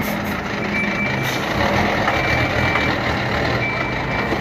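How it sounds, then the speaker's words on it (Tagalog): A boom truck at a roadside accident scene, its steady engine rumbling loudly with a faint high reversing beep repeating at intervals over the noise. "Boom truck."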